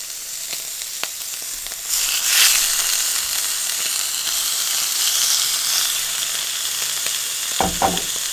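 Spicy pineapple pork chops crisping in a hot pan give off a steady, bright sizzle and hiss throughout, swelling briefly after the opening seconds, with a few light utensil clicks near the end and no voices.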